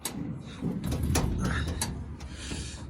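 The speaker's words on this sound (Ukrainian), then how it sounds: "Тут покажу такі двері, тут все защелкується." The cab door of a Claas Dominator 78s combine being shut and latched, a few sharp clacks and metallic clicks close by, with a brief rattling slide in the middle.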